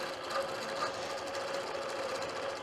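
A sewing machine stitching free-motion micro quilting, a micro stipple pattern on a quilt panel, runs at a fast, steady rapid whir throughout, close and continuous with no talking.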